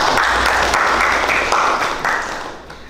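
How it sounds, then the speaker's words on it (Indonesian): An audience of school students and guests at an SMK Wahidin Cirebon talk show claps for the event organisers, a continuous, fairly loud patter of applause that gradually tapers off toward the end. "saya kasih apresiasi luar biasa, tepuk tangan ya buat penyelenggara"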